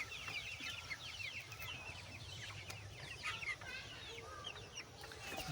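Several farm chickens cluck softly and continuously, with short overlapping calls at a distance, quiet and steady with no voices.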